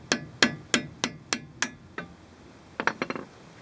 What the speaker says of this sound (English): Now we're going to hammer the bolt out.